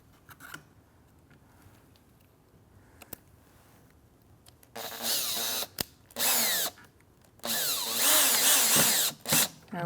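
A power drill drives a screw into the pad of an EXO chair pedal in several loud whirring bursts of rising pitch, after a few quiet clicks and taps while the screw is positioned.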